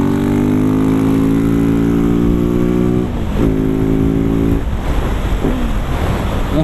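A Husqvarna 701 supermoto motorcycle is ridden hard, its single-cylinder engine climbing in a loud, rising drone, with brief gear-change dips partway through before it pulls again.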